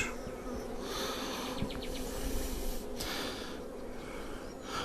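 Honeybees swarm over an opened beehive during a hive inspection, a dense, steady buzz filling the whole stretch at close range, with no talking.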